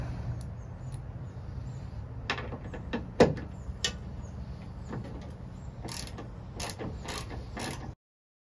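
A tailgate rope hook bolt with lock washer is tightened on a 3rd gen Toyota Tacoma, giving a quiet run of scattered metallic ratchet clicks and short clacks over a low background hum before stopping abruptly.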